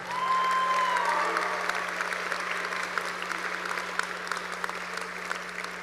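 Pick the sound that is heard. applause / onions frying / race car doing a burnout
applause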